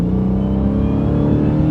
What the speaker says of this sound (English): No, it still goes fast, even in eco mode.